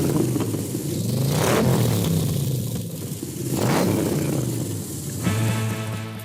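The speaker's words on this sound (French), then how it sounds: "Le son du V8 à la sauce US vrombit comme jamais" An AC Cobra's American V8 revs repeatedly in loud surges, swelling and falling back to a deep idle three times, close to the car with no talk.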